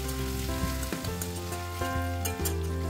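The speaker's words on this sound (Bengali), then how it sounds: "এবার কুচিয়ে রাখা আদা আর রসুন আমি তেলে দিয়ে ভালোভাবে ফ্রাই করে নেব।" Ginger and garlic fry in hot oil in a pan for a chicken stew, giving a steady, close sizzle that runs unbroken throughout, with faint steady tones underneath.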